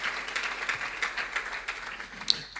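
A church congregation applauds together during a Sunday service, a steady wash of clapping that holds at an even level for a couple of seconds with a sharper clap near the end.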